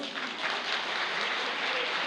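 Audience applause at a Turkish star night show with Black Sea and Trabzon fans, a steady dense wash of clapping filling the whole stretch at even loudness.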